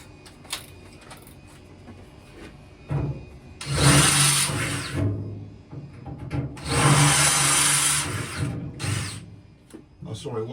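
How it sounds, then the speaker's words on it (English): A power drill widens a pilot hole during a gas installation on a narrowboat, with two close, loud whirring bursts of a few seconds each, set among light handling clatter. "Now I'll drill it out with the right size drill."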